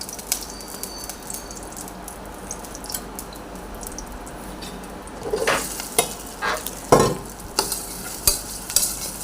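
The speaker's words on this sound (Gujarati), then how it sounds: "અને હવે મારે ઈદડા વઘારવાના છે, એટલે ઈદડા નાસ્તા માટે વઘારી નાખું" Idada tempered with mustard seeds in a pan: a soft background sizzle runs under several sharp scraping and clinking stirring strokes against the pan, growing busier toward the end, with no talking.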